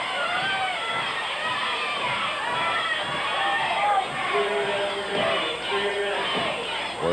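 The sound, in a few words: split wrestling crowd yelling "we want"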